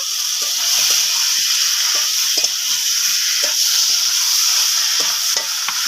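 Fried jackfruit chunks tossed into a pan of well-cooked spiced masala for a wedding-style jackfruit and prawn curry, sizzling and hissing steadily, with scraping stirs and clinks of a spatula throughout, close and fairly loud, no voices.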